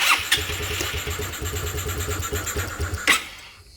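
A Honda PS150i scooter engine runs without its air filter, idling unevenly up close with a lumpy, rhythmic low putter and a couple of sharp bursts.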